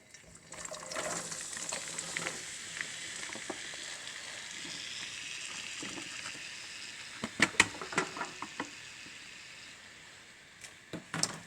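Vegetables and sausage fry in hot grease in a skillet for a seafood gumbo, a steady close sizzle with a cluster of sharper crackles and pops in the latter half.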